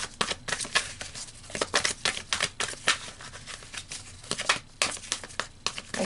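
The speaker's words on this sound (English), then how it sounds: "So let's pull some more cards" Tarot cards shuffled and pulled by hand, a close, crisp run of riffling flicks and papery slaps in quick irregular bursts.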